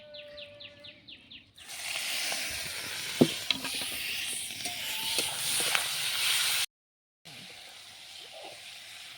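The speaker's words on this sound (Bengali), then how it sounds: "আমি চিংড়ি মাছগুলো ভেজে নেব।" Prawns frying in hot mustard oil in a Bengali home kitchen, a steady close sizzle and crackle that starts abruptly, runs for several seconds with a few sharp pops, breaks off briefly, then resumes.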